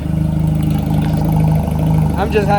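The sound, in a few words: Honda Rebel 250 motorcycle engine running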